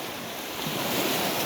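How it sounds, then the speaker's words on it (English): Ocean surf breaking on the shore at a beach, a loud, close, continuous wash of waves with wind noise and no talking. "Rana's loving the sound of the waves."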